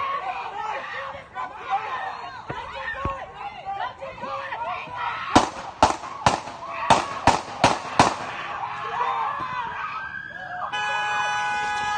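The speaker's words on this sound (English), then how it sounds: "Why the fuck y'all just shoot that man?" Gunshots from a played video of a man being shot, a burst of about seven sharp loud cracks in quick succession over ongoing background chatter and noise.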